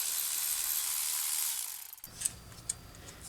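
A 17 mm socket on a ratchet breaks loose the front brake caliper bolts on a 2015 Dodge Ram 1500. Steady rasping gives way to a few sharp, close metallic clicks and knocks.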